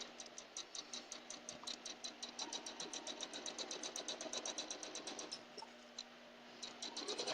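A sewing machine with a quarter-inch foot stitches quilt pieces for an almost-houndstooth quilt, a fast, even run of mechanical ticks that continues for about seven seconds, close and fairly quiet, with no talking.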